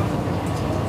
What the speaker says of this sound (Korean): 선로가 오래돼 유난히 덜컹거림이 심한 길.